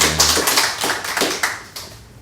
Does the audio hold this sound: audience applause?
yes